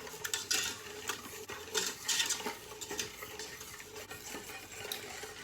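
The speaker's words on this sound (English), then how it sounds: "Give this a quick stir" A spoon stirring a caramel of brown sugar, salt, butter and evaporated milk in a pot, with soft repeated scraping and clinks against the metal, close and quiet.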